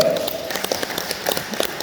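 A short burst of audience clapping at a gathering at the PLN villa in Bedugul, Bali. The claps are scattered and loosely rhythmic, with voices mixed in underneath.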